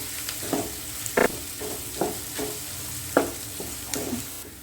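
Onions frying in a pan until golden brown for a potato, pea and paneer curry, with a steady sizzle and a series of irregular stirring scrapes and taps from a spoon.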